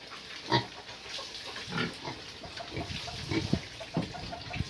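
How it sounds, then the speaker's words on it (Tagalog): Pigs about two months old, six of them on a small farm pen, grunt and squeal in short irregular bursts near the listener, with faint background splashing of water throughout. "Bili na kayo ng baboy for sale."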